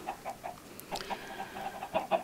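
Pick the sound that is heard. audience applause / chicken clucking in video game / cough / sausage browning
chicken clucking in video game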